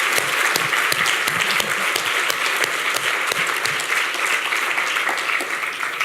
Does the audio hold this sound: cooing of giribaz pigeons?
no